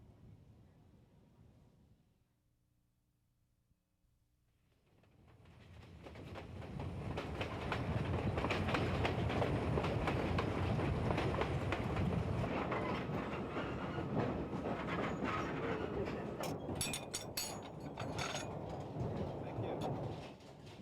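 Train between Colombo and Kandy in Sri Lanka rumbles up from near silence into a loud, steady clatter of wheels on track with rattling carriage mechanisms, a faint voice surfacing briefly amid the din.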